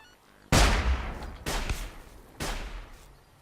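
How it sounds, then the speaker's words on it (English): Three loud gunshot blasts in a video game firefight, each a sharp crack followed by a rumbling tail, spaced about a second apart, with no voices. "Obviously you can tell I'm failing at returning fire right now."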